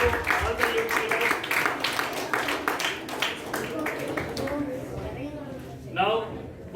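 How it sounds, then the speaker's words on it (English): A group at a youth leaders' gathering claps in quick irregular bursts, a moderately close round of hand claps that thins out, with people talking over and after it. "Big round of applause to all the youth leaders."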